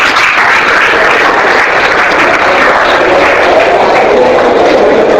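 Youth and students at a confidence-building workshop in Hyderabad clap as a group, a loud, continuous wash of applause that holds steady without pause throughout.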